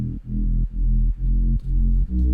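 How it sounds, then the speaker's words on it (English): Deep sustained sub bass in a trap remix build-up, steady heavy low tones pulsing in short phrases with brief dips between them, loud and up front with no voices. "I've got a sub bass on the build up."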